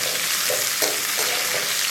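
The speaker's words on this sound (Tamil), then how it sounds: "இதை இன்னும் கொஞ்சம் நல்ல எண்ணெயில் வதக்கிட்டு இப்போது கூட தக்காளி போட்டுக்க போகிறோம்" Onion and tomato sizzle steadily as they sauté in oil in a pan, a continuous close frying hiss with faint stirring scrapes, no voices.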